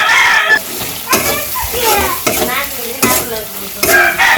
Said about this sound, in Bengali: মশলার সাথে শুটকি মাছগুলো একটু ভালো করে কষিয়ে নিই